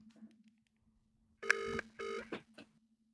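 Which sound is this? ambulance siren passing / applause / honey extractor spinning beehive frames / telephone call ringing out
telephone call ringing out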